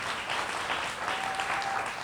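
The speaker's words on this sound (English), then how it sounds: "we should give them a big round of applause" A crowd claps steadily, a dense, even round of applause that stays at a moderate level throughout with no talking over it.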